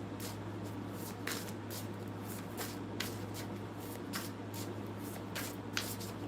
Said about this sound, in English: Let me shuffle up a little bit.